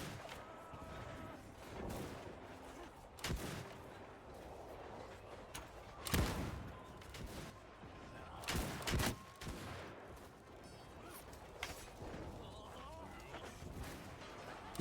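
Musket volleys crackle in a Mount & Blade 2 Bannerlord samurai battle, with scattered shots and heavier bursts popping at varying distances over a constant din of combat.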